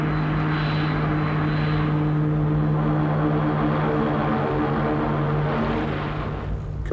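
Propeller airplane engines running after landing, a loud steady droning roar with a strong low tone that gradually winds down near the end.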